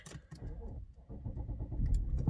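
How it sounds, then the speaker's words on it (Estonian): A 2008 Audi A8 3.2 FSI Quattro engine cranks and catches, settling into a low rumbling idle after a brief jingle of keys, close by and fairly quiet. "Paneme siin autole hääled sisse."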